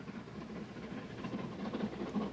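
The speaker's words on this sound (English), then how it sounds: "The train dives down into a deep cutting through the ridge that lies across its path to the north of Leeds" A train runs through a deep cutting north of Leeds, giving a faint, steady low rumble with a soft hiss, continuous and distant.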